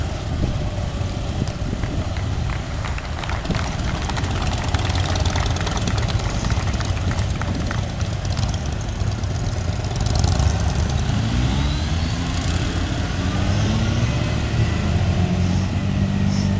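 Several motorcycles from a display team run together at low speed, their engines a steady continuous drone of idling and slow riding that holds level throughout, with no voices over it.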